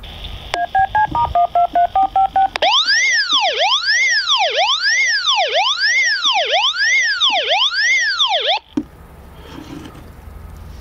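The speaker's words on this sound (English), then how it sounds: "you can hear that's a nice loud sound. And it does indicate that someone's fallen over" A handheld DMR radio's man-down alarm, triggered by tipping it over: a series of short beeping tones gives way to a loud, rapidly warbling alarm that sweeps up and down repeatedly for several seconds, then cuts off abruptly.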